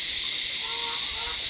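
Tofu dipped in beaten egg sizzles steadily in a hot frying pan, a continuous close hiss of pan-frying with no pauses and no talking.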